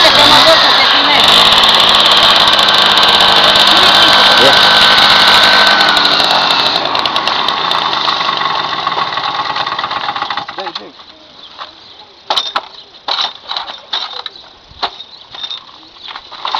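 A motorcycle engine runs loudly and steadily for about ten seconds with a buzzing, high-pitched drone, then drops to a lower idle broken by short bursts and blips, with voices faintly underneath.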